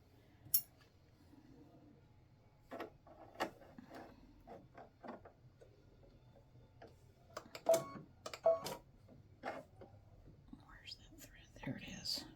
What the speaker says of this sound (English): I'm going to have to cut the threads.